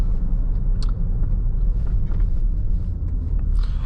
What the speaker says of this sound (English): I do really like the sound of this V8.